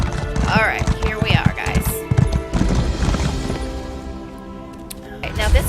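Horse hooves clip-clopping while riding in the video game Elder Scrolls Online, a steady rhythmic trot heard under someone talking, with faint game sounds in the background.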